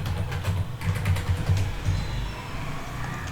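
Fingers tap out a password on a computer keyboard in a short burst of close, quick clicks over a steady background hum.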